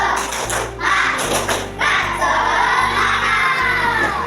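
A class of schoolchildren in a morning lesson does a rhythmic 'tepuk semangat' spirit clap, bursts of patterned claps and thumps with excited young voices over a steady low hum, close and loud.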